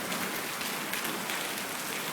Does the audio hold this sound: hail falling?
yes